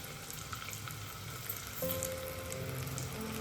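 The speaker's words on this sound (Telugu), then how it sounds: "ఇప్పుడు ఇందులోనే మనం ఫ్రై చేస్తాం." Chicken leg pieces frying in hot oil in a clay pan, giving a soft, steady sizzle that grows slightly fuller partway through as more food goes in, with faint kitchen clatter.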